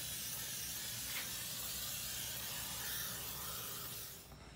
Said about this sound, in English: We're going to go ahead and use our tire protectant and just spray this on the sidewall.